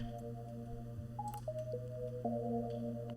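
A mysterious synth patch from the Sine Star plugin plays sustained, steady tones that step between pitches, with a low drone beneath, quiet and alone.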